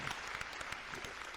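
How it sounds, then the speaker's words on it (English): Guest Rudy Lo gets a round of applause from a small studio audience on a podcast, soft and somewhat distant, with scattered claps in an uneven rhythm. "Round of applause for Rudy Lo, please."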